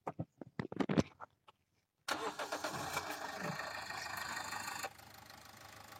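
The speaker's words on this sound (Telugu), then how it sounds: "ఇప్పుడు మీకు బండి స్టార్ట్ చేసి బీటింగ్ చూపిస్తాను. ఒకసారి బీటింగ్ వినండి, మీకు అర్థమవుతుంది." A 2018 Toyota Etios diesel car engine cranks and catches, then settles into a steady close idle for a few seconds before the sound cuts lower; brief knocking sounds come just before the start.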